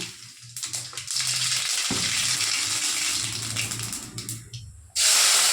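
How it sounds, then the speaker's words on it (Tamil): Mustard seeds hit hot oil in a pan, giving a steady, close spluttering hiss and crackle that runs for several seconds before a louder burst of sizzle near the end. "அதுக்கு எண்ணெய் ஊற்றிட்டேன் கடுகு போட்டுங்க"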